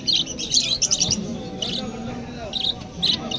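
Mango lovebirds chirping at a crowded wholesale bird market, bursts of sharp close tweets over a murmuring background of people talking.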